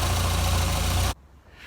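A Golf Mk1 GTI engine idles after a timing belt change, a loud, close, steady rumble that cuts off abruptly about a second in, leaving near silence.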